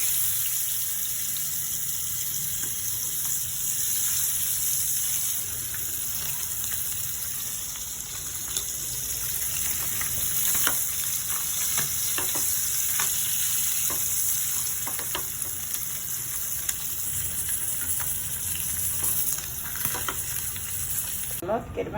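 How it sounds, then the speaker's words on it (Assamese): Kandhuli fish frying in a pan, a dense, continuous sizzle with scattered small pops and crackles throughout, close and fairly loud, with no talking. "কান্দুলি মাছ এটাও ফ্ৰাই কৰি দিওঁ"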